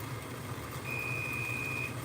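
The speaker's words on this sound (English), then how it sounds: "Alright, there's my timer again." A single sustained high electronic beep from a kitchen timer, about a second long and faint over low background hum.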